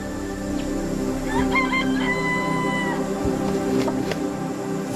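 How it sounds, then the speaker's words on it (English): Jungle fowl in Singapore crowing and clucking outdoors at moderate distance, short bird calls rising above a continuous background hum, with no talking. "Those birds over there, they're the jungle fowl."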